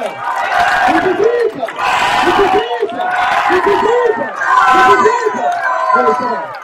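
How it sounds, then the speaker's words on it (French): A crowd at a Tour de l'Avenir reception in La Gacilly cheers for cyclist Pierre Thierry in repeated loud, rhythmic group shouts, chant-like waves rising and falling several times, close and energetic. "applaudissements pour Pierre Thierry, mesdames et messieurs"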